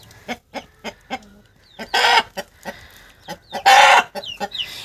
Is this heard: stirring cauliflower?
no